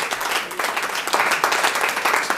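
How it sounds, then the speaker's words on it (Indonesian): Church congregation at an Indonesian sermon cheering and applauding for Jesus, a steady, loud wash of clapping and voices filling the short moment. "Berikan sorak-sorai buat Tuhan Yesus."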